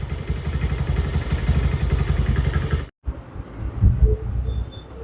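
A BS6 motorcycle being repaired for an over-revving fault runs with a close, steady, throbbing engine note that cuts off abruptly. Quieter clattering and background noise follow.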